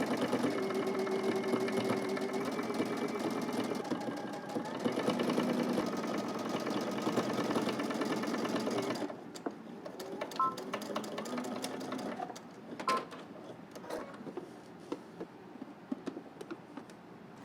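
A sewing machine runs a long continuous line of stitching in the ditch along a centre seam. The steady motor whirr lasts about nine seconds, then gives way to quieter clicks and handling sounds.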